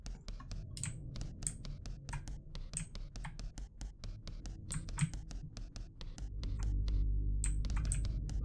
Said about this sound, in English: Chopping up meat.